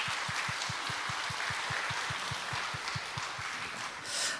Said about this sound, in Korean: 우리 먼저 하나님께 감사와 또 영광의 박수를 한번 올려드리고